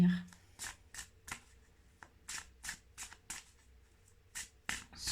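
Tarot cards shuffled in a series of quick, close riffles and taps, fairly quiet, while someone speaks softly in French over the shuffling.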